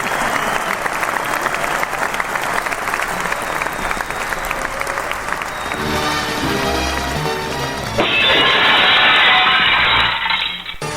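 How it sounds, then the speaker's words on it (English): An audience applauds steadily for a sports circus show guest, a dense, continuous patter of many hands that swells louder near the end. "Nice round of applause for Eddie Klepp"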